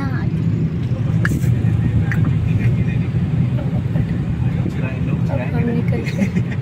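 A car being driven, heard from inside as a steady low engine and road rumble throughout, with people talking over it.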